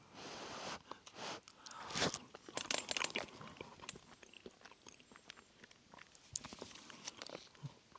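Close, crunchy chewing and biting of creamy buckwheat mixed with bacon, eaten outdoors on a camping trip, with irregular bursts of crunch and soft mouth sounds and no talk.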